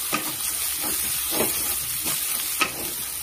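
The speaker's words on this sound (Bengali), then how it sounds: "এবার মশলাটাকে ভালো করে ভাজবো" Ginger and garlic paste fries in hot oil for a homestyle chicken curry. A steady close sizzle runs throughout, broken by several soft scrapes of a spoon stirring the pan, with no talking.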